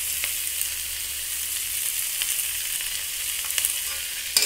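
Potatoes fry in a pan with a bright, continuous sizzle and occasional soft stirring taps, a slightly louder clatter at the very end, and no speech.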